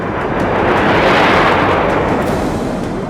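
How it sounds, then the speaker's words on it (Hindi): A deep, rumbling blast roars loudly and continuously, like a heavy explosion or artillery fire echoing across open ground, at an Indian Air Force firepower demonstration in Rajasthan. "ये धमाका आपने सुना"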